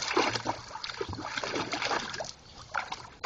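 Water from a hose sprays and splatters onto a concrete patio, a steady broadband hiss with uneven splashy surges, close and fairly loud, briefly easing near the end.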